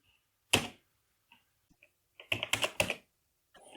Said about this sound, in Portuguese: Vou digitar o -1.